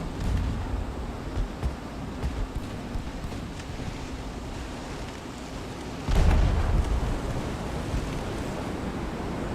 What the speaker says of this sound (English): Let's see if we can't get our nose torpedo away.